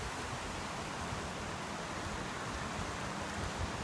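Heavy rain pours steadily onto a flooded backyard after a day-long storm, a constant dense hiss with no pauses and no voices.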